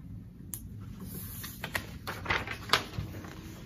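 A marker writes a label on a simple drawing of a person, giving a few short scratchy strokes on paper, close and fairly quiet, over a soft steady background hiss with no talking.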